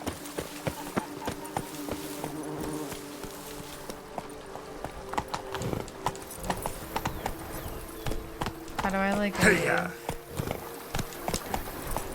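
Hooves clip-clop in a quick, steady rhythm of a horse galloping in The Witcher 3 video game while a person talks over them, with a brief louder whoosh near the end.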